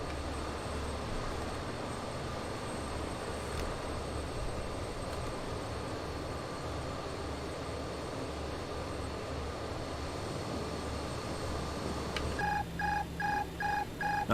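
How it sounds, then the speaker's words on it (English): Steady aircraft engine drone in a BAE146 airliner flight simulator, with a series of repeated beeping tones near the end as the autopilot engages. "That's the autopilot kicking in."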